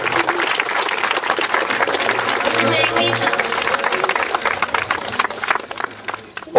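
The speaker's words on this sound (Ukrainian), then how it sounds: "давайте зараз гучними оплесками спочатку привітаємо учасників сьогоднішніх змагань" Loud, sustained applause from a crowd greeting participants at the opening of a memorial football tournament outdoors, a dense continuous patter of clapping lasting several seconds and tapering slightly at the end.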